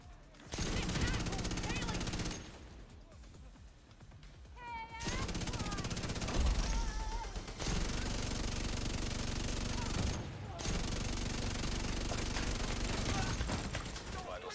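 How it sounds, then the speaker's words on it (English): Sustained rapid gunfire from The Division 2 fills most of the stretch in loud bursts with short gaps, mixed with game effects and a voice talking over it. "Who's shooting me?"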